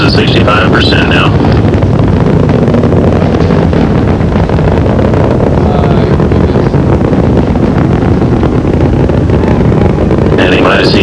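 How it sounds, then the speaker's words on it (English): The engines of Space Shuttle Discovery roar during its 1988 launch, a continuous loud, rumbling broadband thunder that holds without break, with brief radio-style voice chatter near the start and end. "Engines throttling down now to maintain a certain speed as the spacecraft passes through max Q"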